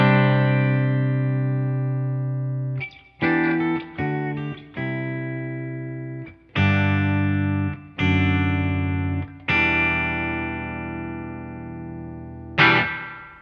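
A bright, distorted electric guitar plays short chords and sustained notes with gaps between them, each trailing off with a springy, splashy reverb tail from a TC Electronic imitated spring reverb.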